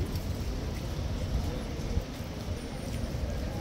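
Hooves of a King's Guard horse clip-clop steadily on pavement in London, a moderately loud rhythmic clatter over a low outdoor rumble with no talking.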